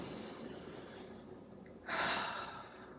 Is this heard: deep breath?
yes